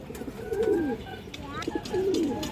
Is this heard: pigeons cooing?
yes